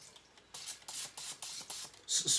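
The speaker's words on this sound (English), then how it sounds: "spray a little bit in there before." Cooking oil sprayed into a preheating air fryer basket: a series of six short, close hissing spritzes in a quick, fairly regular rhythm, the last one a little longer and louder.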